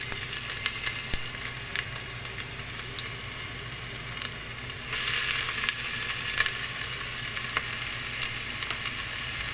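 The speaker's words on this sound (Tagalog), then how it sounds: "Fried onions." Onions fry in a pan for pork noodles with a loud, continuous close sizzle that swells brighter midway and carries on without talk.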